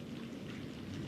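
Rain sound effect played during a stage performance of The Tempest, a steady, dense hiss of falling rain with a low rumble underneath, continuous and fairly soft throughout, with no voices.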